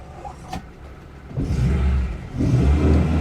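A Lada Niva engine while driving, quiet at first, then rising into a loud revving drone that eases and swells again close by.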